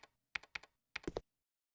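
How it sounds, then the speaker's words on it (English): Someone typing on a computer keyboard in a quiet room: two short bursts of keystrokes, then a quick run of three or four clicks, all close and fairly soft with no talk. "Someone is typing."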